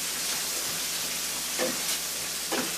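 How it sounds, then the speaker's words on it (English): Bacon strips with red pepper and half a medium onion fry in a pan in a steady, loud, close sizzle, with a couple of brief stirring scrapes and no talk. "I have some bacon frying up in this frying pan"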